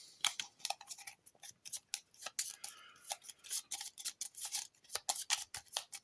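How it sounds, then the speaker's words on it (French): Game cards being shuffled together on a table, a quick run of crisp, papery riffles and snaps coming in uneven bursts, close and fairly quiet with no voices. "Mélanger les cartes Caroline et Floppy avec les cartes restantes"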